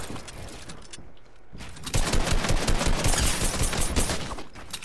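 AR rifle gunfire in an online shooter game: rapid, dense bursts of automatic shots, lighter at first and then loud and sustained, close-sounding with little else beneath.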